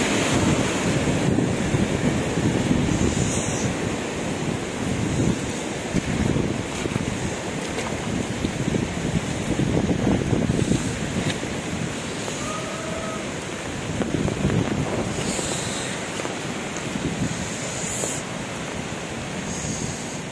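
A strong typhoon batters the coast with heavy wind and crashing waves, a loud, continuous roar with gusting buffets against the microphone that swell and ease over about twenty seconds.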